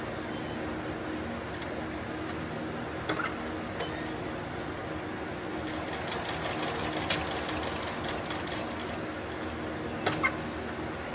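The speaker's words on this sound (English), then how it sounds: "We might have to swap bobbins here soon." Sewing machine stitching fabric for a tactical plate carrier, a steady continuous whirring hum with faint ticking, louder bursts of running in the second half and a couple of sharp clicks near the end.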